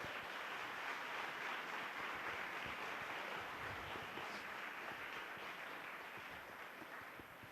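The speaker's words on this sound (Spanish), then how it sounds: "Un aplauso a Jesús." A church congregation gives sustained applause for Jesus, steady dense clapping filling the room and fading slightly toward the end, with no talk over it.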